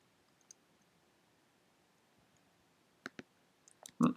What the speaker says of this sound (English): we're just going to type in none for all three